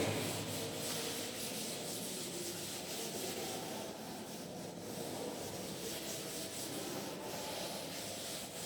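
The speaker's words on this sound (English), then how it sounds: "Now I am going to rub this one." A board is being wiped clean of math working during a class lesson, giving a steady, continuous rubbing and scrubbing sound close by for the whole stretch, with no talking over it.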